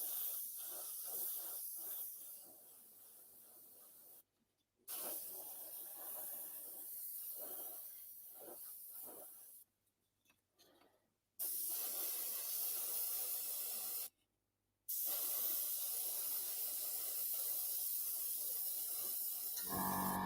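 An airbrush sprays heavier paint coats onto a model, a steady close hiss in long bursts separated by brief pauses.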